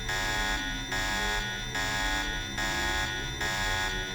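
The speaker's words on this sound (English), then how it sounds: "Oh god, that alarm is so loud." A loud alarm in the video game Deus Ex sounds as a harsh buzzing tone. It repeats in even pulses of about half a second and continues throughout.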